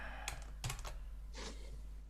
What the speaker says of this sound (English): I've been typing as we're going.